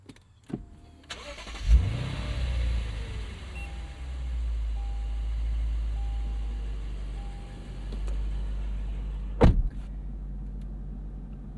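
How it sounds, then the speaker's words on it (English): A 2024 Lexus IS 500 V8 sedan engine cranks and catches with a sharp start, then settles into a steady low idle, with a few clicks and a thump near the end. "let's go ahead and fire this thing up"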